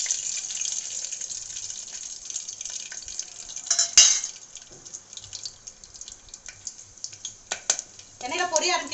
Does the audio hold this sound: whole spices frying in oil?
yes